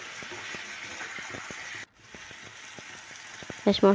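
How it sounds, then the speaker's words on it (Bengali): Chicken cooks white without turmeric or chili powder, sautéing in a pan with a steady close sizzle. Soft stirring taps run through it, there is a brief break, and a louder clatter comes at the end. "মোটামুটি আমার কষানো হয়ে গেছে।"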